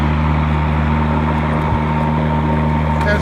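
A Toro 20363 battery-powered self-propelled lawn mower drives itself over grass, giving off a loud, steady motor hum and whine close by with no breaks.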